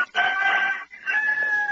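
A rooster crows twice in quick succession, loud and close, each call a sustained strained cry with a brief gap between them, with no talk over it.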